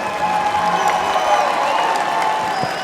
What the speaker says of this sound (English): Let's give them a great round of applause, all the contestants from Miss Indian World